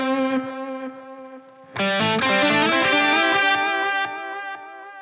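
Distorted electric guitar through a Line 6 Helix transistor tape delay modeled on a Maestro Echoplex, wow and flutter set high: a sustained chord, then a louder strummed passage with warbling repeats trailing off, no talking.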